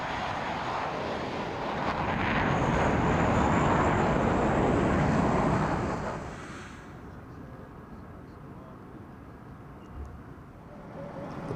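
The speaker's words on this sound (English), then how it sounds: "Top Gun fighters get airborne into the sunset." Top Gun fighter jets roar loudly as they take off into the sunset at the Miramar air show. The engine noise swells to a peak, then fades away into the distance, with no voices over it.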